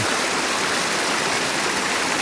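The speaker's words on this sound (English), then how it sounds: "This is the stream that comes down from near Kia Ora Hut and going to the Mersey River" A mountain stream on the Overland Track flows down from near Kia Ora Hut toward the Mersey River, its steady, close rushing water filling the scene with continuous broadband noise and no pauses.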